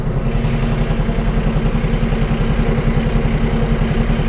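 A farm tractor engine runs steadily nearby, a loud, continuous low rumble with rhythmic clattering pulses and no voices over it.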